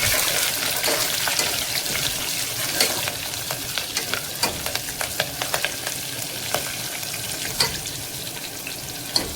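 Curry leaves, crushed garlic and slit green chillies frying in oil for khichdi, stirred for a minute; a continuous crackling sizzle with frequent sharp pops and spatula clicks against the pan.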